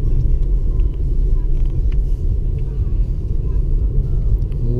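A car drives along a road near a coastal park, heard from inside as a steady, loud low-frequency engine and road rumble that runs continuously, with faint bits of other sound over it.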